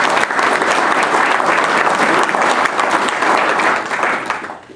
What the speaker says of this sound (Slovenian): Tako da še en aplavz za gospoda Kukana,